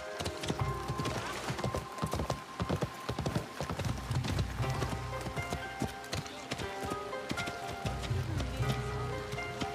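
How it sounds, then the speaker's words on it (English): Horse hooves clip-clop steadily through a Japanese town in Assassin's Creed Shadows, a busy rhythmic trot over game music and ambience, with occasional neighs and voices talking. "Way Yasuke rolled into town on that horse"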